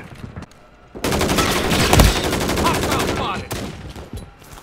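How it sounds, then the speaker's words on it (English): Rapid automatic gunfire from the Call of Duty Modern Warfare III game rattles in a dense, loud burst lasting a few seconds, with shots layered on top of each other before tapering off. "Taking fire."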